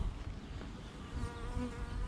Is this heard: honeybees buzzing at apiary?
yes